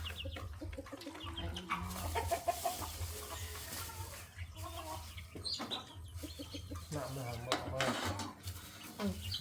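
Backyard free-range chickens cluck and peck close by, busy scratching sounds mixed with continuous chatter from people talking over them throughout.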